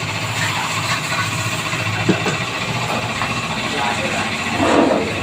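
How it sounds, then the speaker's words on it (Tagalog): A Mitsubishi 4D56 diesel engine idles at a steady rumble while it is being washed, with a spray of water hissing over it, a brief clank, and a voice speaking over the noise. "Naglilinis po ng makina yan oh."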